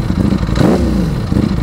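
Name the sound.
Ducati Panigale V4 superbike engine starting with self-starter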